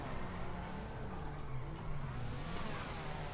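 A car engine running in a GTA roleplay game, a steady low rumble with slight rises in pitch as it pulls away, moderately faint and continuous, with no talk.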